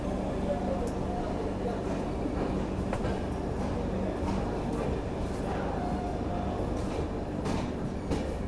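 Train at the busy Jasidih Junction railway station in Jharkhand, a steady loud rumble of rolling carriages with faint clicks and squeals throughout, voices murmuring underneath.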